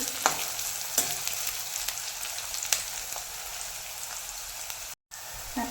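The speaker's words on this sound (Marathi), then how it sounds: "दोन मिनटात कसा ब्राऊन कांदा पडला आहे अजून आपण दोन मिनटं ह्याला असंच भाजून घेणार आहे" Onions frying in a pan for potato bhaji give a steady, bright crackling sizzle throughout, with a few sharper pops and a brief dropout near the end, no talking.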